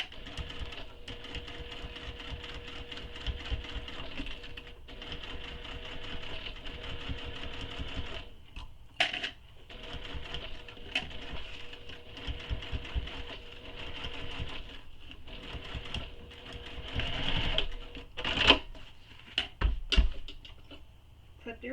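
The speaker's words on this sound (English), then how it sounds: "So now I'm going to stitch where the curved edge is." A sewing machine stitches around the curved edge of a foam-padded tote bag, running in a steady close whir with a few brief stops and knocks, while someone talks over it.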